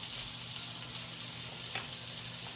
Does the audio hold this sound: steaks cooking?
yes